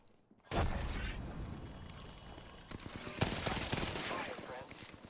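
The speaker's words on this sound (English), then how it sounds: "They're shooting at me." Gunfire in a shooter video game, a sudden loud burst of rapid shots after a quiet start, continuing as dense crackling fire with mechanical clatter and sharper cracks near the end.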